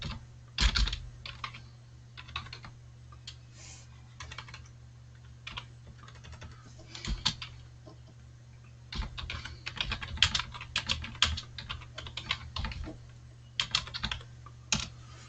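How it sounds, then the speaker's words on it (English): Typing on a computer keyboard during a live stream, close clattering keystrokes in irregular bursts with short pauses between runs, no talking. "Let me type it in chat"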